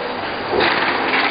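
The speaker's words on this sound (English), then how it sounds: "The valve inserting machine consists of valve turntable, the blowing part, and the valve inserting part." A valve inserting machine on a 2800B automatic aerosol filling line runs with a valve turntable and blowing section, giving a steady close mechanical whir and hiss that grows slightly louder partway through.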